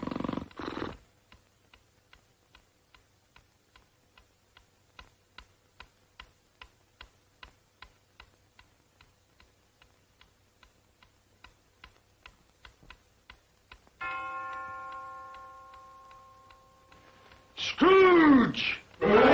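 A clock ticks steadily and quietly for a long stretch, then a single bell strike rings out with a clear, lingering tone before a voice begins speaking, in the 1949 Christmas Carol film.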